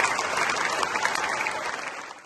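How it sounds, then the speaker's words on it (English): A concert audience in the Golden Hall of the Musikverein in Vienna gives sustained, dense applause from many hands, which begins to fade toward the end. "Just listen to the applause."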